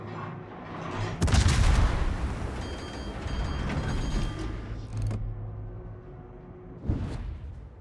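A warship fires armour-piercing shells in World of Warships: a heavy boom and roaring blast with mechanical creaking from the turrets, then a second, smaller report near the end. No voices.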